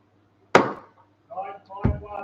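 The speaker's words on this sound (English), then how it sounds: "Hammer coming down, fair warning." An auctioneer's gavel comes down at a saleroom auction with a sharp, sudden knock, followed by a second thud a little later, while a voice speaks between the strikes.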